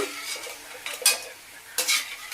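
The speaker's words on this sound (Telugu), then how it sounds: "ఇవైతే ఒక దాంట్లో తీసేస్తున్నాను" Fried bitter gourd pieces are scooped from a frying pan with a utensil, producing a few sharp metallic scrapes and clinks over a faint sizzle, close and without speech.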